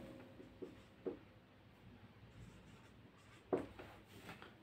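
Faint scratchy marker or chalk strokes on a classroom board during a respiration lesson, a few short isolated bursts over a quiet room with no talking.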